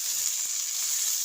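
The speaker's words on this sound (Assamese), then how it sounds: "ইয়াতে মই কোমোৰা পাতকেইটা 2 মিনিট সময় ভাজিম" Pumpkin leaves fry with ginger and garlic in a hot pan, giving a continuous, even sizzle and hiss that stays close and steady throughout, with no talking.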